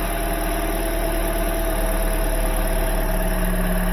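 Small Scion iQ engine idling steadily with a slight misfire, a continuous low hum and faint uneven knock running throughout, close and moderately loud with no voices.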